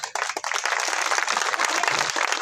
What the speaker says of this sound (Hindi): दो तालियां हमारे प्रदेश महामंत्री डॉक्टर आकिब जी के लिए